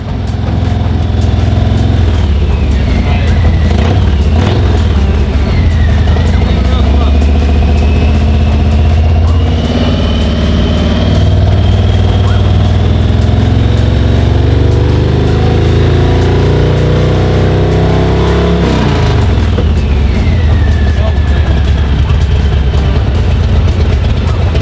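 Harley-Davidson Low Rider S motorcycle fitted with a new aftermarket exhaust, its engine running loud and close with a deep, steady rumble, occasional revs and pitch sweeps throughout, and no one speaking.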